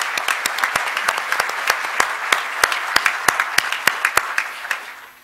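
A lecture audience gives a warm round of applause; a wash of many hands with distinct sharp claps standing out, sustained and even before fading at the end.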